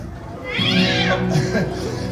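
A costumed performer playing Puss in Boots at a Universal Studios Singapore stage show gives a drawn-out, voiced cat meow, likely imitated by a human voice, that rises and bends over about a second at moderate loudness.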